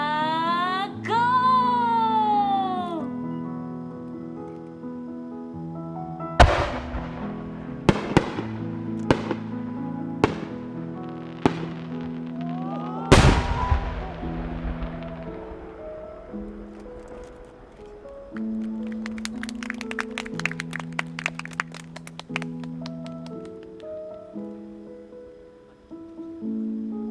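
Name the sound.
large shakudama firework shells launched and bursting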